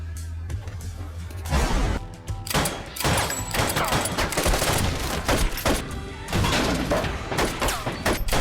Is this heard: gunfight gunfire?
yes